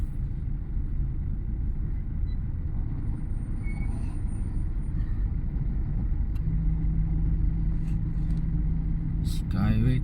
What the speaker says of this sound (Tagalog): Skyway traffic.